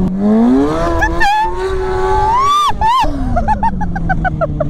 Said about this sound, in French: Juste à l'accélération, tu vas voir que la moto va se lever toute seule sans rien faire.